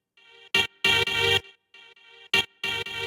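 A rave stab synth sample sounds as short, bright chord stabs in a syncopated repeating pattern, loud and dry, with quieter sustained tones between the hits.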